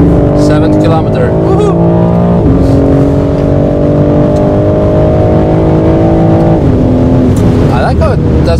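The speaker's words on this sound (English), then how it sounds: "I like how it does make some pops and bangs by upshifting." BMW G80 M3 engine pulling hard through gears, a loud droning exhaust note that climbs, drops at upshifts with crackles and pops, recorded from inside the car with people talking over it.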